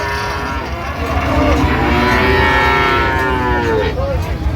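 Sahiwal bulls moo in long, drawn-out bellows at a cattle market in Dinajpur, over a dense background of crowd noise and traffic, loud and close.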